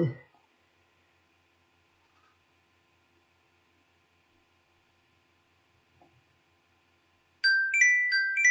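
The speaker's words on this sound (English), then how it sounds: "The alarm on my phone letting me know it's time to quit for the day" After a long near-silent stretch, a phone alarm's bright electronic ringtone melody suddenly starts playing close by, repeating its chirpy beeping notes.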